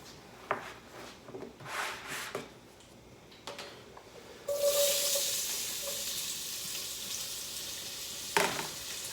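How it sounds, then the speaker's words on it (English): Chopped sweet onion hits a pot still coated in browned bits from seared meat, a bright, loud sizzle flaring up after scattered stirring and scraping sounds, then settling into a steady fry with a brief clatter near the end. "I've chopped 1 large sweet onion that I'm gonna add to my pot here."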